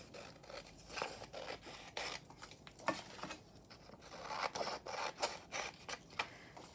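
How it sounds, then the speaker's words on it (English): Scissors snip along the edges of journal paper pages in a quick, uneven series of close, crisp cuts and small rustles, with no voices. "then I just grab my scissors. I'm going to cut all of these edges along here."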